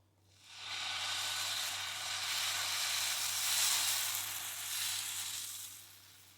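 Ade dosa batter poured onto a hot griddle gives a steady, close hiss of sizzling that rises quickly, holds, and fades slightly toward the end, with no talking.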